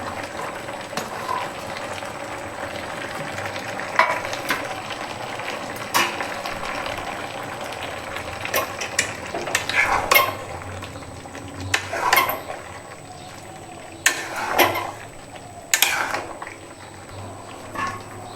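Onions frying in a pot of jackfruit curry, a steady bubbling sizzle with scattered metallic clinks and scrapes of a spoon against the pot, growing busier toward the end.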